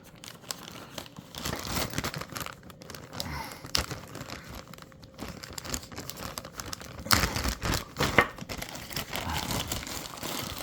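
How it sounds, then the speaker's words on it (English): A plastic parts bag from a mystery box is pulled and torn open, giving a close, continuous crinkling and rustling with sharper tearing bursts toward the end. "Now for this, let me get this bag open here."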